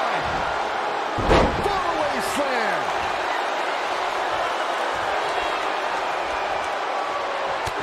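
A single heavy wrestling slam onto the ring mat during a WWE SmackDown women's match, one sharp thud followed by a sustained roar of the arena crowd under commentary.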